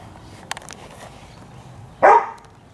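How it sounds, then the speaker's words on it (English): A dog gives one sharp, loud bark close by, standing out against an otherwise quiet outdoor background. "You hear my doggy?"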